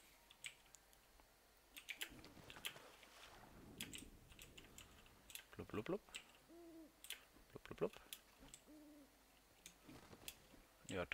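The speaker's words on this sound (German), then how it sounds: "Eine kleine Eule." A small owl in Portal Knights hoots softly a few times, faint and sparse, amid quiet ambience and sharp intermittent clicking and keyboard tapping.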